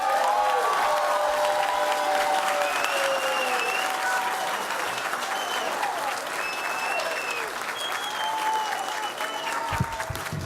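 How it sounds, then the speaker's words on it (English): A crowd at a mayoral candidates forum in South L.A. applauds steadily and densely for ten seconds, with some faint cheering mixed in and a few scattered voices underneath. "let's bring her up with a big round of applause"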